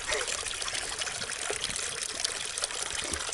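Clear spring water trickles and splashes steadily close by at a fairly loud level outdoors in the Carpathian mountains, with faint voices underneath.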